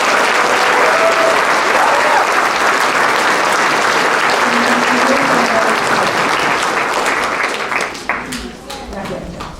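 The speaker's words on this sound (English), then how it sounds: "Now let's applaud." An audience at a sixth-grade elementary school graduation claps loudly and continuously for honored students, the applause thinning toward the end as voices and scattered claps remain.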